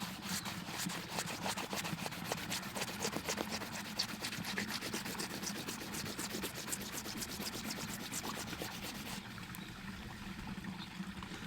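Sandpaper rubbing against weathered pipestone in rapid, steady back-and-forth strokes, a close scratchy rasping that continues for several seconds and then eases off.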